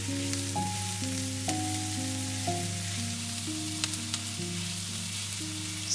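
Bacon-wrapped rolls fry in an old cast iron skillet with a continuous, even sizzle throughout and no voices.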